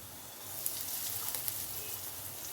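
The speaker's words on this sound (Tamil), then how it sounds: "தாளிப்பு கடுகு போட்டுக்கலாம், கொஞ்சமாக வெந்தயம் போட்டுக்கலாம், கூடவே பெருங்காயம் போட்டுக்கலாம்" Mustard seeds, fenugreek and asafoetida sizzling in hot sesame oil, a steady faint hiss with a few tiny pops throughout, close and unbroken by talk.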